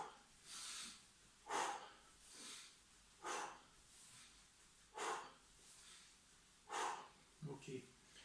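A kettlebell trainer's repeated breaths during two-handed kettlebell swings: five or six sharp, close nasal inhales and exhales in a steady rhythm about every second and a half, alone in a quiet room.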